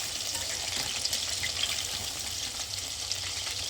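Chicken pakoras frying in hot oil give a steady, close sizzle and bubbling hiss that stays even throughout, with no voices.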